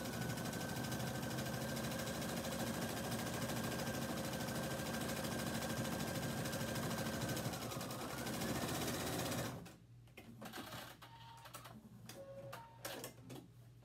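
Sewing machine running steadily as it stitches a zigzag seam along the edges of chambray fabric, a continuous close mechanical whir for about nine seconds before it stops, followed by quieter handling noises.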